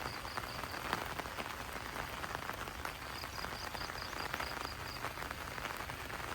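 Heavy overnight rain pours steadily in a dense, even hiss with scattered drips and taps, continuous and moderately distant, with no voices.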